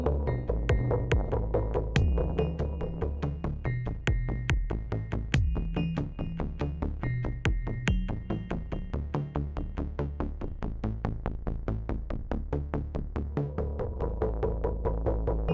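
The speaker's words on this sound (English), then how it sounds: "So here are the new 1010 modules with interesting wavetable synthesis." Wavetable synthesis from new 1010 modular synth modules at a modular meeting in Fischbach, Germany: a steady pulsing electronic sequence of repeating tones with sustained pads underneath, continuous and fairly loud, with no talking.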